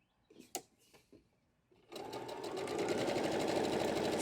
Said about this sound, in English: We're going to sew that.